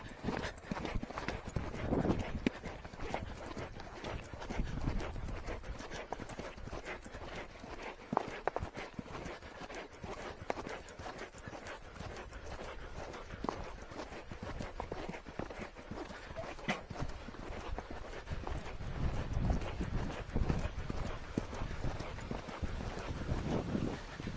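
A horse trots on a gallops track, its hooves clip-clopping in a steady, fast rhythm for the whole stretch, close to the microphone, with wind noise and rider movement around it.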